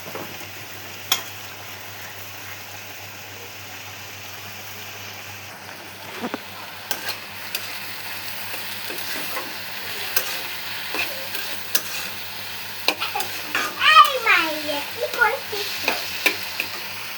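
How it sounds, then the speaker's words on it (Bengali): Potatoes and ridge gourd fry in a pan with a low, steady sizzle. Scattered clicks and scraping from stirring grow busier in the second half, and a faint voice-like sound rises near the end. "ঝিঙ্গা দিয়ে আলু কষাইতেছি"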